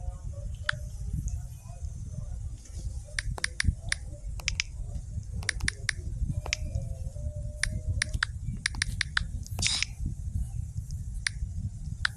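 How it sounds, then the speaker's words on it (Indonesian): Someone types on a keyboard, and sharp separate key clicks come in irregular bursts over a steady low background hum. "kayak gini nih typing aku."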